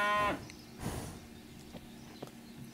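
A single loud cow moo from the farming video game Farmers Life opens the clip, then fades into a quiet ambient background with faint soft thuds.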